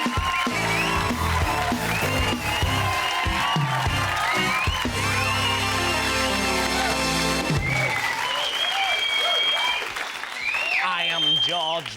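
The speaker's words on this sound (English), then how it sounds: "a big round of applause for Cliff White" A comedy show studio audience bursts into loud applause, cheers and whoops, sustained under a bright music sting and a host's voice, thinning toward the end as talk continues.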